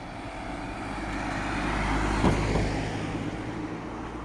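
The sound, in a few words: cars driving on town streets at night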